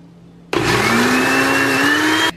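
A kitchen blender beats egg, mustard, salt and garlic for homemade mayonnaise in one loud, close burst of about two seconds, a steady motor whine that starts and stops sharply against a quiet room.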